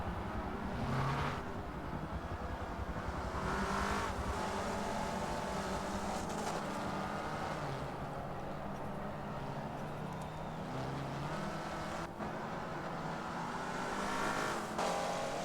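Race car engine and tire noise from the Forza video game, a continuous loud drone with shifting revs and gear changes as the car drives through a downtown area, with brief tire squeal and no talking.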